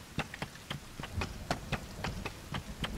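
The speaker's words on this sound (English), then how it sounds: "We got some rain coming too." Rain in Sons of the Forest patters in irregular drops over a low rumbling bed, each hit distinct and fairly close.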